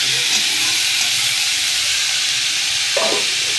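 Spring onion stalks fry loudly in a pan, with a dense, continuous close sizzle and hiss steady throughout and a brief clink near the end.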